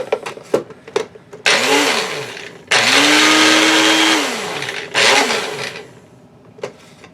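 A blender spins wool dubbing in three loud whirring bursts, the motor pitch rising and falling with each run, separated by brief clatters and handling noises close by.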